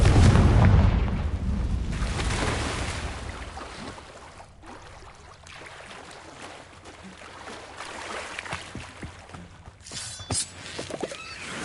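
A Confringo spell blasts in Hogwarts Legacy with a loud, deep boom right at the start, then a rumbling, fading tail. Scattered crackles and a few sharp pops follow near the end.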